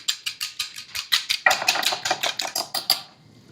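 Eggs with a pinch of salt whisked in a bowl for a turkey meatloaf: rapid, even clicking strokes of a whisk against the bowl, close and steady, growing a little fuller partway through before stopping.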